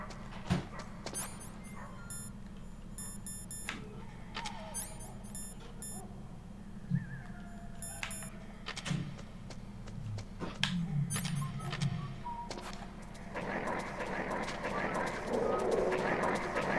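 Dogs barking in the video game Metal Gear Solid, several short yaps and bow-wows scattered over a low game ambience, mid-distance, with a voice speaking briefly near the end.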